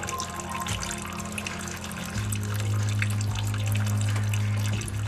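Coolant draining from a BMW F650GS motorcycle after the thermostat is removed, a steady close trickle and splash of liquid that grows fuller and louder partway through, with no voices.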